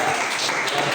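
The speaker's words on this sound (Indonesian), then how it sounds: "Jadi tepuk tangan dulu" A classroom of students clapping together in a brief, dense burst of applause that continues steadily for about a second.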